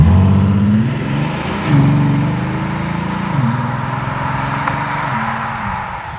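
A 2012 Bentley Continental Supersports ISR convertible with a 640 hp twelve-cylinder engine drives slowly, its deep engine note loud and close, rising and falling through gentle shifts, with wind and road rush over the top.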